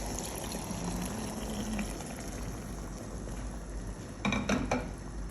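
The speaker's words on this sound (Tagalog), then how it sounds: "So lalagyan ko na siya ng tubig." Water pours steadily into a cooking pot of sautéed salmon for Filipino sinigang, a continuous rushing splash at close range with a few sharper splashes near the end.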